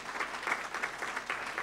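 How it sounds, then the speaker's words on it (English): Brief, fairly faint applause from an audience at a chamber of commerce legislative event, a quick patter of clapping with no voices over it. "Give her a round of applause over here."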